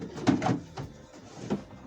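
Drawers on locking runners in a Mercedes 508D camper van conversion are slid and shut, giving a few soft, close knocks and brief scraping slides with no talking.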